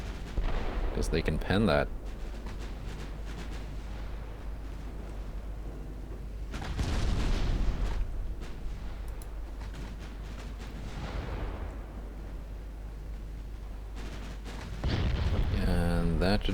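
4.2-inch secondary guns fire AP shells in Ultimate Admiral Dreadnoughts, several deep booming blasts spaced seconds apart over a continuous low naval rumble, with someone talking over the firing.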